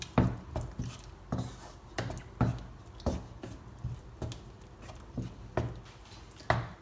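Cooked vegetables stirred into a white sauce for penne pasta in a pan, a spoon scraping and knocking against the metal in repeated close taps and soft squelches, with no talk.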